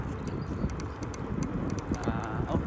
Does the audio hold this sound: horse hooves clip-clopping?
yes